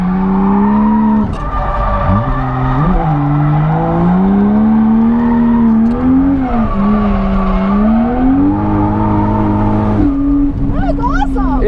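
Toyota JZX90 drifting, its engine droning and rising in pitch as it revs while the tires squeal through the slides, loud and close for the whole run, ending in a burst of high screeching.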